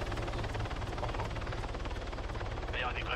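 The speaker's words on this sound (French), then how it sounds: "c'est un hélico" Helicopter in the Arma 3 Altis Life game, a steady rhythmic rotor thump with engine whine held close and loud, fainter voices talking over it.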